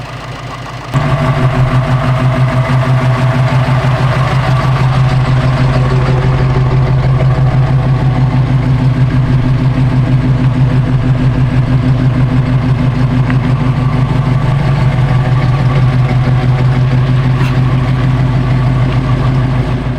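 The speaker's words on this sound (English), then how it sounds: "You hit the key, that thing starts up and idles." A Ford Bronco engine fitted with Holley Sniper EFI starts in cold 35-degree weather and settles into a loud, steady, even idle that runs uninterrupted, with no talking over it.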